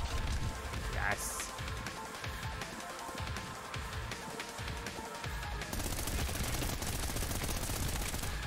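Video game gunfire, a dense, continuous clatter of rapid shots filling the background along with other busy game sounds.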